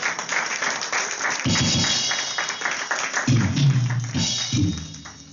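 A church congregation applauds to acclaim the Lord at a pastor's retirement ceremony, a steady wash of clapping that swells partway through, with low thumping sounds breaking in at intervals.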